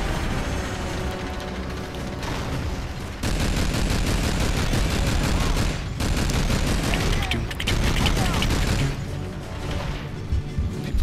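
Sustained loud bursts of gunfire from the Call of Duty 3 video game, heavy overlapping rifle and machine-gun volleys with mechanical clatter, continuous and near, with brief quieter dips between barrages.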